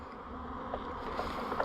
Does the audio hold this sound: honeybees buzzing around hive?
yes